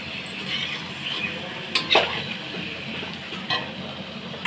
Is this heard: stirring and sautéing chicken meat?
yes